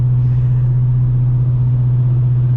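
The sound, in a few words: 2018 Dodge Challenger R/T 392 engine cruising in sixth gear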